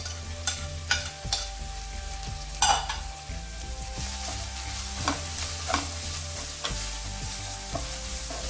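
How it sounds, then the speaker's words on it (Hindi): Chopped cabbage and carrot fry in a pan over a medium flame, giving a steady close sizzle broken by a few sharp scrapes and stirring knocks, with no voices. "इसको हम मीडियम फ्लेम में ही फ्राई करेंगे।"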